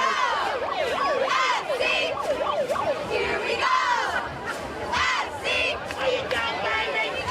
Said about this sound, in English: I keep hearing that siren going off